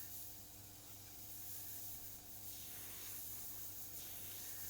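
An airbrush spraying face makeup paint over the lip area of a Joker face, a soft, steady hiss of air with slight swells, faint and alone.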